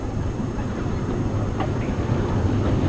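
A steady low rumble of a train rolling along, with faint clatter and a brief squeal midway, continuous and moderately close.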